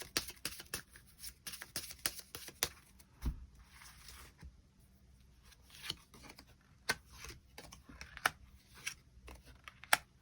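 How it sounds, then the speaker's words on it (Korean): Tarot cards are shuffled and drawn at close range, a quiet string of crisp paper flicks, snaps and rubs in irregular bursts throughout. "추가 카드로 일별로 월요일부터 일요일까지 어떤 하루하루를 보내게 될지 추가 카드 뽑아보도록 하겠습니다"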